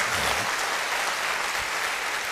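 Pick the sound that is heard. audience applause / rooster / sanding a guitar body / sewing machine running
audience applause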